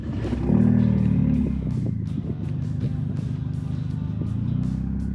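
A Ford Mustang pulls away and accelerates, its engine rising to a loud, steady rumble that holds for a few seconds and then settles into a constant drone, close by and with no voices.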